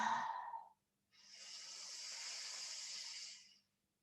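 Deep breathing during a guided tantric breathwork exercise: a short exhale, a pause, then one long, steady, airy breath lasting about two and a half seconds, close and quiet with no talking.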